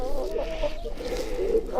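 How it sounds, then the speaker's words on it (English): Chickens and a rooster of the King Brahma breed, about a year old, cluck continuously in a close, busy, steady stretch with no talk over them. "I have 3 chickens and one rooster"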